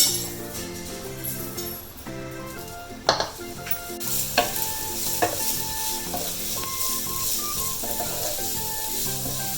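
Crushed ginger and garlic sizzle and fry in hot oil for a mushroom chilli dish, a steady close hiss with scattered spoon stirring and clinks and no talking.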